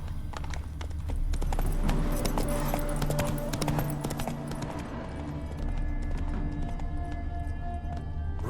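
Roach, the horse from The Witcher 3, gallops with a rapid, steady clip-clop of hooves on the ground, close and even, with faint game ambience underneath.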